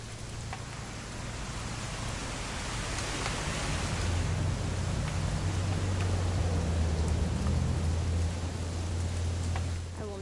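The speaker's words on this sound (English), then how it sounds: "It's gonna rain the whole weekend," Steady rain hisses throughout a scene in the video game What Remains of Edith Finch, with a low rumble underneath that swells toward the middle, and no voices.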